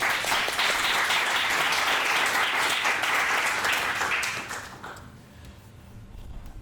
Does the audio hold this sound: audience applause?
yes